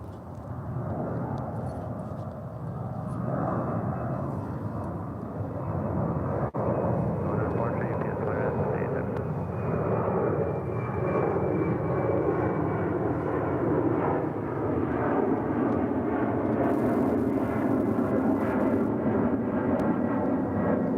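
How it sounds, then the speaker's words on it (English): Jet engines roar steadily as a UPS Boeing 767-300ER airliner takes off at DFW airport, heard from a distance and slowly swelling with a falling whine, while a person talks over the noise. "Next departure, UPS Flight 2978. It's a 767-300 ER."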